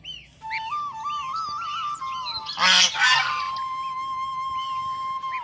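A young domestic goose peeps repeatedly in thin high calls, with a louder honking burst midway, close by and without talk.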